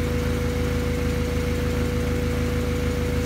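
A Honda Civic engine idles at a steady low rumble with an even mechanical hum, close and constant, with no voices.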